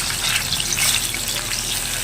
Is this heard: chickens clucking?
no